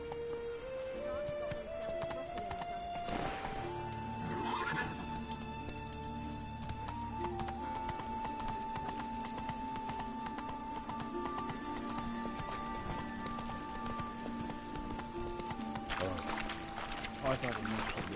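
Roach the horse's hooves clip-clop at a run in The Witcher 3, heard under game music and other in-game sounds and holding steady across the stretch.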